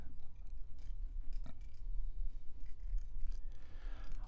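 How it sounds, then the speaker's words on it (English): A clock radio is shuffled around by hand, giving close, scattered scrapes, knocks and rustles of plastic against a surface, with no talking. "Mr. Clock Radio is getting shuffled around here."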